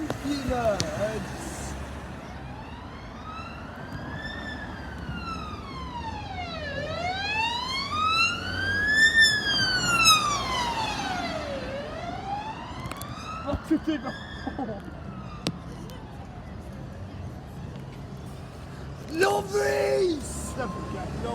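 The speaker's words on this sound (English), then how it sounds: "And there's this ambulance." Ambulance siren passing on a street in Ryde, its wailing rising and falling clearly across most of the clip and fading near the end, with traffic noise and people talking nearby.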